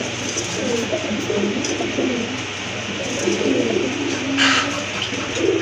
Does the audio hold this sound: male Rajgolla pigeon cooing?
yes